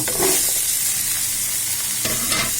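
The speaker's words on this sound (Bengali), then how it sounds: "মিষ্টি কুমড়াগুলো কিছুক্ষণ আনুমানিক দুই দুই মিনিটের মতো নাড়াবো" Pumpkin pieces frying with prawns in hot oil are stirred in a pan, giving a bright continuous sizzle with a few scraping strokes at the start and again near the end.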